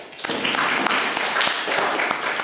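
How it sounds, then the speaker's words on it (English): A dense round of applause from an audience at a business presentation, steady crackling claps filling the room for a couple of seconds, fairly loud. "Round of applause."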